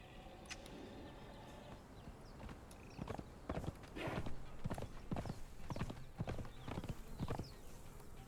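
Horse hooves clip-clop in the video game Conan Exiles as a mount is ridden, at first soft and sparse, then a steady run of distinct hoofbeats, with faint game ambience and no talking.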